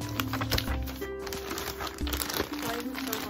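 Scissors cut open a mailed clothing package, giving close, crinkling plastic and crunchy snipping bursts that come in uneven spurts over a few seconds.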